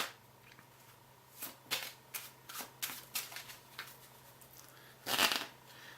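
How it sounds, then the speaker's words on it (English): A deck of cards is shuffled close by, a run of soft riffling flutters followed by a brief louder riffle near the end. "we're going to give them a bit of a shuffle"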